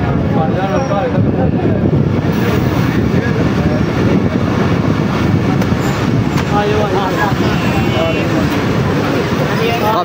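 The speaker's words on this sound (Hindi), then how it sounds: "ट्रेन हमारी इस वक्त उकाड़ा रेलवे स्टेशन के प्लेटफॉर्म में दाखिल हो चुकी है" A passenger train, the Khyber Mail, pulls into a crowded platform at Okara railway station in Pakistan on the second day of Eid, with a steady, loud rolling rumble throughout and voices mixed in.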